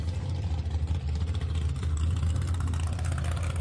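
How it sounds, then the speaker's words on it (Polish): Chevrolet Camaro with a Big Block V8 at a parallel racing round on an airfield, a deep, heavy engine rumble holding steady with slight revving pulses, loud and continuous. "No i na ten dźwięk silnika, była potężnego Big Blocka V8."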